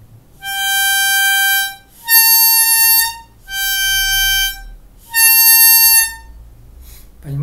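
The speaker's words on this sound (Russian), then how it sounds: "Если обычная нота на шестом отверстии звучит так," Hohner harmonica playing the normal note on the sixth hole, four bright, reedy blows of about a second each, alternating slightly in tone, with a short low thump at the end.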